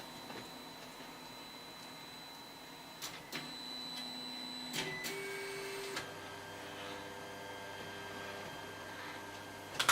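A 3D printer homing its axes: faint whining stepper motors that change pitch in steps, with small clicks as each axis reaches its stop, quiet and steady.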